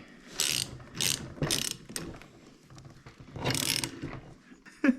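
Ratchet wrench tightening a bolt on the brake of a Toyota Land Cruiser FJ40, giving several quick bursts of clicking with short pauses between them, close and fairly loud.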